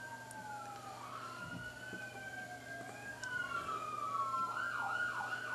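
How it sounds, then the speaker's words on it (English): Emergency vehicle sirens wailing outside, rising and falling tones overlapping as more than one siren sounds at once, distant and muffled through walls, steady over a low background hum. "Sorry, sirens outside."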